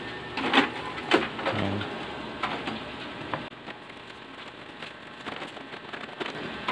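An HP Ink Tank 315 printer runs a print head cleaning cycle, giving a steady mechanical whir with irregular clicks and clunks close by, and no talking.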